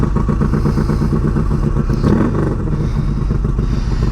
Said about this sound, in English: This exhaust sounds really good too, I know that.